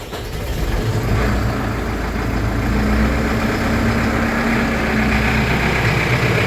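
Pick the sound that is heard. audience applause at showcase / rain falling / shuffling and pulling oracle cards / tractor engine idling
tractor engine idling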